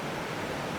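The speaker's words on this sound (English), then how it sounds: "The sounds of the rushing water emanating from the Merced River was therapeutic" Rushing water of the Merced River in Yosemite's canyon, a steady, broadband wash filling the whole short stretch evenly with no voices.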